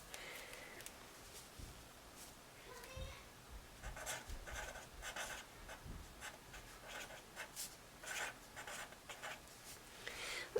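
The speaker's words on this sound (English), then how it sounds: "I'm going to write it over here" Pen writing by hand on paper, a soft continuous scratching and tapping of strokes, close and fairly faint over low background hum.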